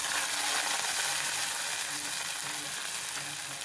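Onions and curry leaves sizzle steadily in hot oil for a tangy rice and idli-dosa side dish, a dense continuous crackle with faint scraping, no one speaking.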